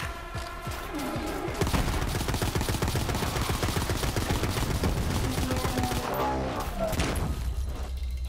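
Rapid assault rifle fire at an enemy in the looter-shooter Borderlands 3: a sustained fast burst of loud close shots for several seconds, ending with a heavier impact, with a brief voice in the mix.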